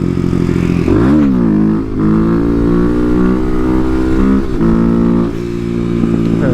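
A Kawasaki KLX250SF supermoto's single-cylinder engine pulls hard in third gear, a loud, steady buzzing drone that climbs in pitch, dips briefly at a shift or throttle change, then rises again close to the rider.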